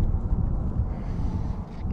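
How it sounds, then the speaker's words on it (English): Gusty wind buffets the microphone outdoors while fishing for crappie, a continuous low rumbling roar with uneven swells and no voices. "It's kind of windy today. It's messing with me."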